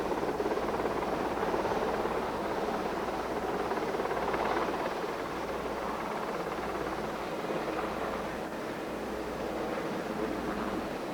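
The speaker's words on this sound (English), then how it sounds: "you can see the blinking lights of the President's helicopter as it approaches the United States Capitol." The President's helicopter approaches the United States Capitol, a faint, distant rotor rumble that holds steady and low throughout with no voices.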